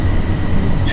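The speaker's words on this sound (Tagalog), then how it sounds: "May train sa loob ng airport." Rumble of an airport train inside Jeddah King Abdulaziz International Airport, a loud, steady low drone of a rail car in motion filling the brief moment.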